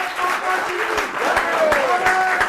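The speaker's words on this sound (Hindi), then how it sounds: "एक बार जोरदार तालियां बजाइए इनके लिए।" An audience at a televised Holi poetry gathering applauds a poet, a dense patter of clapping heard under a person talking throughout.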